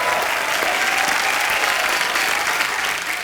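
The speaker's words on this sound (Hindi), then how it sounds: "पर राजू भाई के लिए जोरदार तालियां।" A studio audience at a comedy talk show claps loudly and continuously for Raju, a dense, even wash of applause that eases slightly at the very end.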